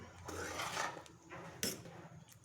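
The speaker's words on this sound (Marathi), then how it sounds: "छान असं मिक्स करून घेऊया." A spoon scraping and stirring through a Maharashtrian Bhogi vegetable curry with ground sesame and crushed peanut powder in a pot, soft close rubbing and a couple of light metal clinks.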